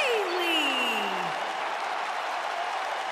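Arena crowd at a women's wrestling match, applauding and cheering loudly and steadily as a wrestler from San Jose, California makes her entrance, a broad wash of clapping with a short descending whistle-like tone near the start.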